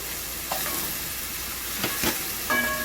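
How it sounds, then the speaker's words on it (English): Onion and garlic sizzle in a pan over medium heat, a steady close hiss of frying punctuated by a few brief stirring scrapes, with no voices over it. "the onion and the garlic go in there together. It's medium heat."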